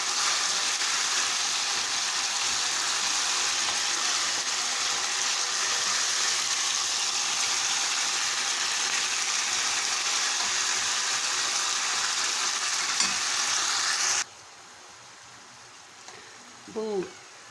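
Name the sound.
chicken gizzards frying in a pan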